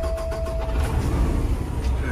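A 2014 Peterbilt 389 truck engine cranks and fires up, a steady low rumble that holds fairly loud and close through the whole stretch, with a brief spoken word near the start.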